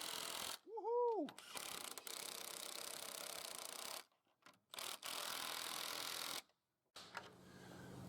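A ratchet fitted with a long reach socket clicks in quick bursts while tightening long bolts on timber roof trusses, loud and close with short pauses between runs, and a brief whistle-like tone near the start.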